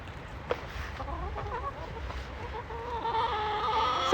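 Backyard chickens cluck and murmur softly before feeding, a loose chorus of short calls that grows a little busier toward the end.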